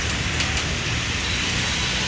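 Heavy rain pours down in a steady, loud, dense hiss that stays constant and close throughout, with no voices.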